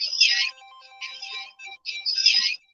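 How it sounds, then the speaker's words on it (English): A mobile phone ringtone chirps in three bright electronic bursts with short gaps between them, clear and fairly close. "Your phone is ringing?"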